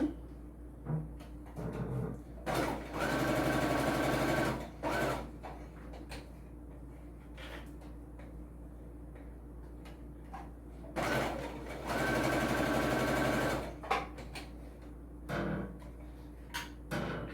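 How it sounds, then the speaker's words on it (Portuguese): A sewing machine stitches seams along the sides of a fabric travel wallet. It runs in steady bursts that stop and start, with clicks and fabric handling in the pauses, at close range over a constant low hum. "eu vou passar uma costura aqui e outra costura desse lado"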